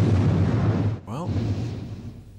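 A detonated charge explodes in an episode of the Terrahawks puppet series, a loud rumbling blast that decays, briefly broken by a voice, then a fading roar.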